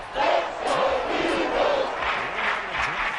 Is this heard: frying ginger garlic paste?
no